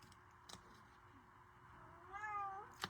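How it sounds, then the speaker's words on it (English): A cat gives a single clear, rising meow near the end, fairly close, against a faint indoor background with a couple of small taps. "I'm going to have to let my cat out."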